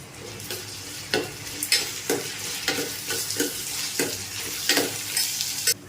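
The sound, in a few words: onions sautéing with salt in a pan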